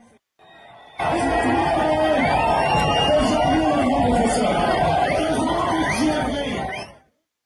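A large political rally crowd in Cameroon fills the air with dense, continuous chatter and shouting voices, a loud steady hubbub that swells in and holds for several seconds before cutting off.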